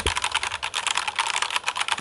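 Fast, continuous typing on a HyperX Alloy Elite 2 gaming keyboard, dense clattering keystrokes close to the microphone with no pauses and no talking.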